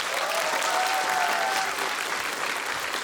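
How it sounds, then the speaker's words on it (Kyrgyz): Audience applause at the premiere of the Kyrgyz film "Наемшиктер", a dense, sustained clapping from a large crowd that holds steady at full strength throughout. "Аскат Сулаймановго бир кол чабуулар болсунчу."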